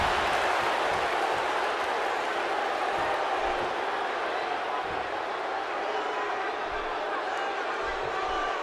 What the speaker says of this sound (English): by the sound of this crowd, I think they're getting...